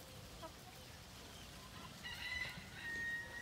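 Hens and a rooster in a garden pen give short, faint clucks and calls, quiet and somewhat distant over low background noise.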